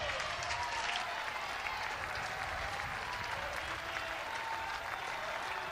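A sparse but loud college baseball crowd at Ole Miss versus Nebraska applauding and cheering, a steady dense wash of clapping and crowd noise that holds evenly throughout at a distance.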